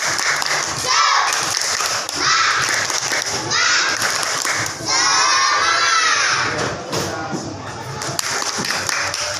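A group at an academic coaching and supervision session joins in a spirited 'tepuk semangat' clap cheer, loud massed voices shouting and chanting together in bursts for the whole stretch.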